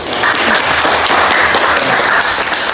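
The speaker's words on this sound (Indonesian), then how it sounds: "terima kasih untuk kelompok 1 dan kita berikan aplaus." Classmates in a school classroom give a group a round of applause, dense steady clapping from many hands filling the room at full loudness for the whole moment.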